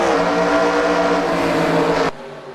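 Racing stock cars roar together at full throttle at the green-flag start of the Nashville 75, a dense, loud, sustained engine wall with no talk that cuts off abruptly near the end.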